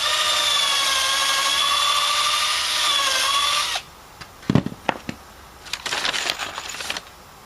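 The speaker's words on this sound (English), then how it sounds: "we'll put the next screw in" A power drill whines steadily for about four seconds, driving a Torx screw into a rotted wooden picnic table, then stops; a few short knocks and scraping handling noises follow, with no talking.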